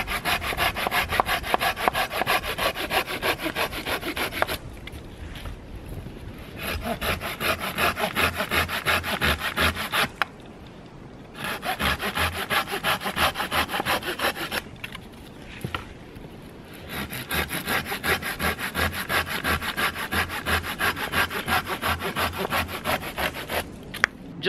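Silky F180 folding saw cutting through a piece of wood, loud rhythmic rasping strokes in three sustained bursts separated by short pauses, close up with no talking.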